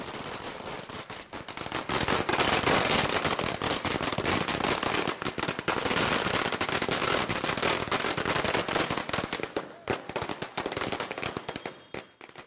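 Firecrackers burst in a dense, continuous crackling barrage during a political party's celebration, loud and sustained with rapid overlapping pops, tapering off near the end.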